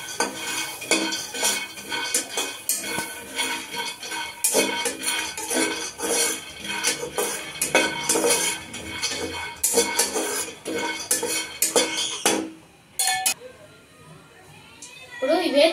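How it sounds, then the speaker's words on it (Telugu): Peanuts dry-roasted in a hot pan with no oil, rattling and scraping steadily as they are stirred, busy metallic clatter throughout, with a voice speaking over it. "ఇప్పుడు ప్యాన్ వేడెక్కిందండి. దీంట్లో వేరుశనగ గుండ్లు వేసినాను. ఇది డ్రైగానే వేపుకోవాలండి."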